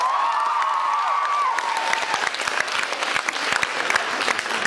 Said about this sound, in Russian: Во-первых, бурные аплодисменты.